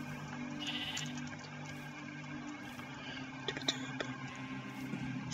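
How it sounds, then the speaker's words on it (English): Sheep in the modded Minecraft survival game Crazy Craft give several short bleats over faint in-game ambience, with no talking. "Hitting every sheep in my sight."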